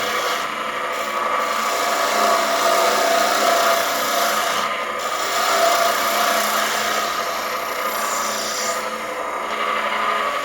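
A carbide lathe tool cutting a spinning wooden pen blank, giving a continuous, loud rasping and scraping whir that holds steady with slight swells throughout.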